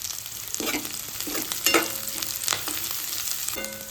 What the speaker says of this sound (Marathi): आता आपण त्याच्यात कढीपत्ता घालूया आणि मिरची